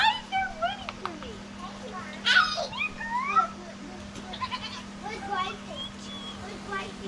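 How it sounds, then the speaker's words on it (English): Goats bleat on a farm, several short nasal calls rising and falling at close range, mixed with people talking nearby over a steady background hum. "That little black and white goat, Charlie."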